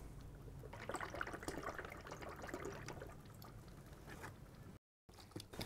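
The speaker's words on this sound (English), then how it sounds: "Pour out the same volume of sealer." Waterproofing sealer poured into a container of water for a slag-cement shower slurry, a close, steady liquid glugging and splashing that thins out after a few seconds.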